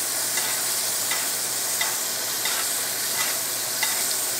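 A NY strip steak sizzles in foaming butter in a cast iron pan, a steady bright hiss and crackle broken by faint periodic spoon scrapes as the butter is basted over the meat.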